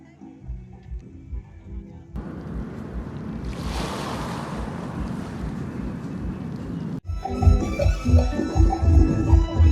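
Waves rush and wash onto the shore of Devgad beach in a broad, steady roar with wind noise, then music starts near the end.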